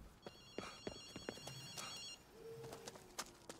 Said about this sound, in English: I'm hearing a phone ringing somewhere.